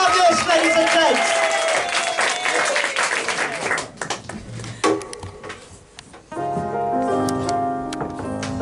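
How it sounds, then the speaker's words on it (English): Audience at a live arts performance event clapping and cheering loudly for a performer being welcomed to the stage, dense applause in the first few seconds that thins out, followed by scattered claps and music-like tones. "start clapping and cheering for me now"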